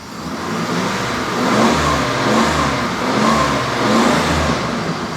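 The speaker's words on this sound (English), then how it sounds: "Let me rev it up." A car engine revs repeatedly in a steady rhythm, rising and falling in a low droning roar close by, with no voices.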